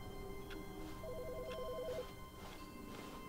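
A telephone rings in a video game with a faint, steady electronic trill at moderate volume against quiet background noise.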